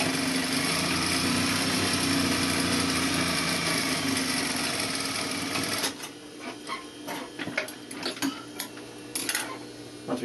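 A sewing machine runs steadily for about six seconds, stitching a seam through fabric with a fast, even mechanical whir. It then stops, leaving light handling clicks and rustles.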